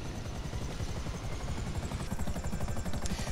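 A Buzzard helicopter in GTA 5 Online thrums close and loud, its steady rapid rotor chop running throughout with no pause.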